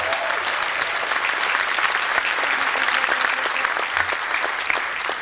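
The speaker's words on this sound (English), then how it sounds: "You can clap now!" A large convention crowd at the Midwest Furfest 2019 closing ceremony in a hotel ballroom bursts into loud, sustained applause, dense overlapping claps filling the room without a pause.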